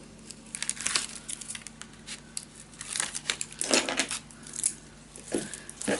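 Scrapbooking paper having its backing peeled away, with crinkly rustles and sharp crackling pulls in uneven bursts, close and fairly quiet.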